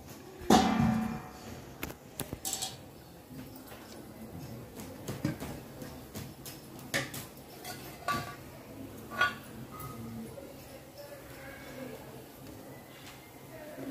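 Rice flour dough for murukulu, with salt and oil, gets mixed in a bowl: soft, scattered clinks and scrapes that come and go, with a louder knock near the start, under occasional talking.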